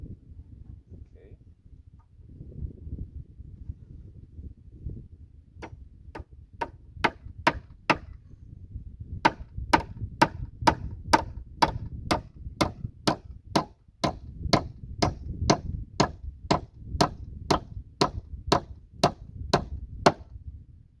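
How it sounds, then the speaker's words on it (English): Hammer blows drive nails into boards of a wooden doghouse, a regular run of sharp, loud strikes that speeds into a steady beat, with a few scattered knocks before and low rumbling background throughout. "I'm going to nail this one to hold it into place."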